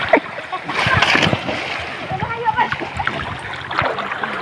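People jump and splash into a canal, with repeated close splashes and churning water mixed with shouting voices throughout.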